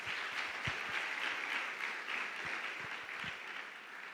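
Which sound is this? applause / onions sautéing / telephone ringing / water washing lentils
applause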